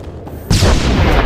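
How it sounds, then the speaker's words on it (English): Blaster fire in Star Wars: The Old Republic, a sudden loud burst of shots and booms that begins partway through and carries on as a dense, continuous barrage. "Blaster fire! Get down! Get down!"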